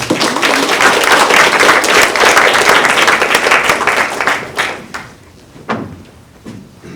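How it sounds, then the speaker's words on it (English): Audience at an environmental symposium on farm labor regulations gives a sustained round of applause, dense and steady for about five seconds before thinning into a few scattered claps and thumps. "Let's give these folks a round of applause as they enter."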